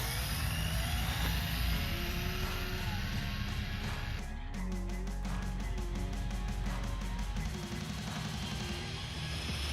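Electric motor of a Rlaarlo ROG1 RC speedrun truck with a 50-tooth pinion, 45A ESC and foam tires, running at full throttle on a road. A loud, steady high whine rises in pitch, with a sharp surge partway through.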